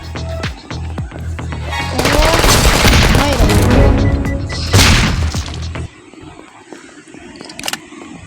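Bursts of explosions and rapid gunfire-like booms from a video game, dense and loud for several seconds before easing into quieter scattered effects and faint clicks.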